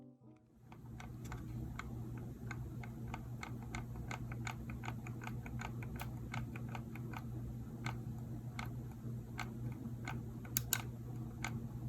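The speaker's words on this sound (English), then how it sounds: "the right mouse button had a sort of pre-click feedback before actually clicking down all the way" A Razer Viper Ultimate mouse's right button with a slight pre-click clicks over and over in a steady, even rhythm. Each click is a crisp, close tick over a constant low hum, and no one speaks.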